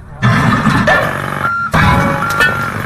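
Repeated reversing beeps from a work vehicle at a construction area in a crossover of the Willy Wonka chocolate factory boat ride, sounding loud and close in steady pulses with one short break.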